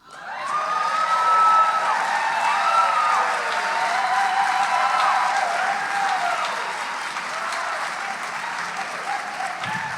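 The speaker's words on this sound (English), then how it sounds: "the clapping happens at the end of all the poets" Sustained audience applause fills a theatre after a poet's reading at an on-site poetry contest, dense clapping with a few whoops and cheers, steady for the full stretch and tapering slightly toward the end.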